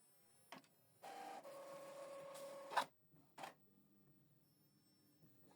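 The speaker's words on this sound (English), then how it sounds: "Preparing to print the reverse side of the document." An Epson XP 4200 inkjet printer whirs and clicks while feeding paper to print the reverse side, with a steady mechanical drone, a sharp clack, then short shuffling bursts, close and fairly quiet.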